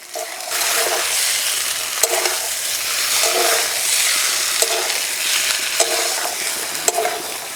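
Masala for chicken aloo dum sautés in a pan over a very low flame: a continuous sizzle broken by repeated scraping stirs every second or so, with occasional sharp clicks of the spoon.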